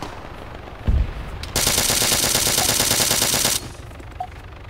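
In ArmA 3 King of the Hill combat, a sustained burst of rapid automatic gunfire lasts about two seconds, loud and dense, preceded by a single heavy thump and followed by quieter background noise.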